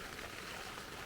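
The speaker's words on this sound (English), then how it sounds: "It's raining again." Soft, steady patter of rain on a campsite shelter in Chicago Basin, Weminuche Wilderness, a continuous faint hiss with no voices.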